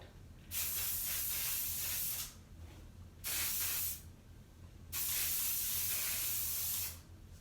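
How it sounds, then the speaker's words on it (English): Hairspray goes on in a light mist: three separate bursts of steady aerosol hiss, each about a second or more long, close and fairly loud, with quiet gaps between them. "I'll do a light mist of hairspray, really light."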